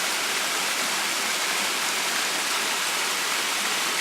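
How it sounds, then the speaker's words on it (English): A waterfall on the Boy Scout Tree Trail gives off a constant, loud, broad rushing roar of falling water that never changes for the whole stretch, with no voices. "And here's the top of the waterfalls."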